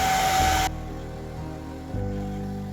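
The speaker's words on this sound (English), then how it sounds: "And with the dryer, I can move it around." A hair dryer blowing over wet watercolour paint roars loudly for under a second, then drops to a lower steady whir that shifts pitch as it is moved around, running alone without talk.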